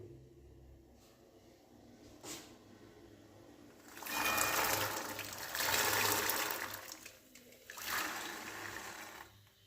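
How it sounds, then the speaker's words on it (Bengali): Washed whole green peas are tipped into a pot of hot water, giving a few rushing, splashing pours of water and peas after a quieter start. There is no talk. "পুরো মটরশুঁটিগুলো এর মধ্যে দিয়ে দিচ্ছি।"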